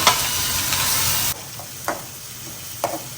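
Oil sautéing after asafoetida and curry leaves go in, a loud close sizzle that drops suddenly to a quieter crackle, with a couple of sharp clinks of a utensil against the pan.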